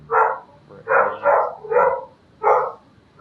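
A neighbor's dog barks loudly and close by in four separate bursts, the middle ones running together into a quick double bark, with short pauses between them and no talking.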